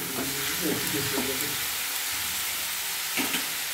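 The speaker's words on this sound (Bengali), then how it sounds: "এখন চিকেনের পিসগুলো ভেজে নিচ্ছি" Chicken pieces frying in a pan: a loud, close crackling sizzle with spitting oil, and a few quick scraping or stirring bursts over the short stretch.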